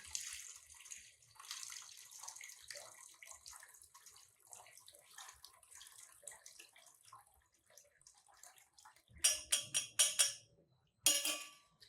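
Water trickles and splashes as it is poured and filtered into a separate container, faint and intermittent at first, then louder bursts of pouring near the end.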